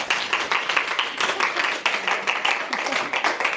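An audience at a faculty professional development session applauds steadily, a dense patter of many hands clapping close by, with no speech over it.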